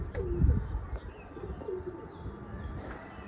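Soft, low pigeon coos repeating a few times against a hum of outdoor background noise.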